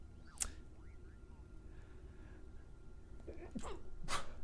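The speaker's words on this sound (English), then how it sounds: "I'm holding back this sneeze." A muffled, stifled sneeze, quiet and close, with a couple of short breathy bursts and no talking.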